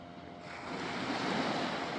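Ocean surf roars continuously at Kuakata sea beach, a broad rushing wash of waves building slightly in loudness, with wind noise over the microphone and no voices.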